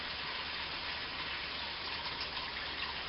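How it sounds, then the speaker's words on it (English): Water gushes in a steady, even rush as soaked pinto beans are drained and rinsed through a colander, a continuous close stream with no talking. "Right now I'm just draining and washing the beans"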